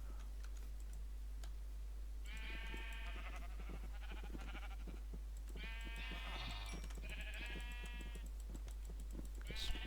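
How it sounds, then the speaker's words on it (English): Minecraft sheep bleat repeatedly in short wavering bursts, several overlapping calls at moderate volume, over a faint steady ticking and low background hum. "Let's breed all the sheep."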